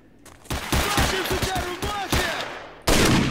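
Shotgun fire in S.T.A.L.K.E.R.: Shadow of Chernobyl: a loud, rapid run of sharp blasts close together with rattling echoes, a brief easing, then one more hard shot at the end, with a voice faintly mixed in.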